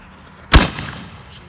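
A single firework salute shell explodes in one sharp, loud boom, and its rumbling echo fades over the next second.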